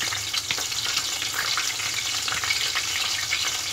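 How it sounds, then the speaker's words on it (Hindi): Peshawari chapli kebab fries in a pan with a constant loud, crackling sizzle of hot oil, steady and close throughout with no talking. "जब तक उधर कबाब फ्राई हो रहा है"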